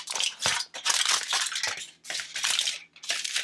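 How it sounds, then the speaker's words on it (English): Tin foil being folded and crumpled by hand for a textured painting surface in a preschool art activity: bursts of loud, close crinkling and crushing in several separate bunches with short pauses between them, no voices. "I like to fold it up first and kind of crumple it up just to give it a little more texture"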